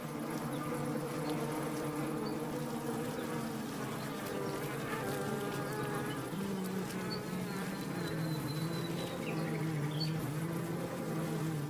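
Dense, steady drone of honeybees buzzing inside a hive, many overlapping wingbeats forming a continuous hum with occasional closer individual bees passing, fairly soft and with no voices.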